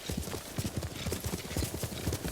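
Horse hooves clip-clop in a quick steady rhythm in the samurai video game Ghost of Tsushima on Iki Island, close and continuous, with faint background voices.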